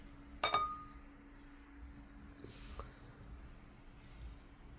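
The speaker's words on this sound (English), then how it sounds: "We'll go ahead, pop this cam gear off." A cam gear pried off a Honda B18 engine during teardown: one sharp metallic clink with a brief ringing tail, followed by a few softer scattered clicks and faint handling noises in a quiet workshop.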